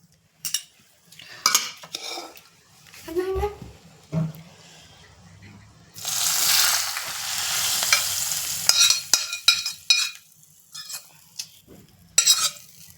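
Hot tempering with asafoetida and dried red chillies is poured over a salad, giving a loud burst of sizzling for a couple of seconds, surrounded by clinks and scrapes of a spoon and bowl as it is mixed.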